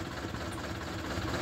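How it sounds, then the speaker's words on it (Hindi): An Eicher 11.10 BS2 truck diesel engine runs steadily at idle with a heavy, rough vibration, a dense continuous low rumble close by with no talk. "ये इंजन इसका स्टार्ट है और इसके अंदर बहुत ज़्यादा वाइब्रेशन है।"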